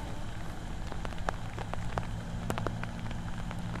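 Rain falls on a surface outdoors, a soft steady patter with scattered distinct drops ticking close by, fairly quiet and without voices.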